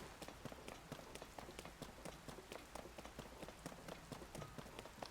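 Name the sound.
rain in the video game Zelda: Tears of the Kingdom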